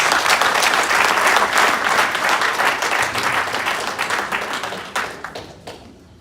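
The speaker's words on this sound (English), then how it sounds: "Please give him a warm round of applause." An audience at a live diaspora property showcase claps for a speaker, with a burst of dense, loud applause that gradually thins into scattered claps and fades out over a few seconds.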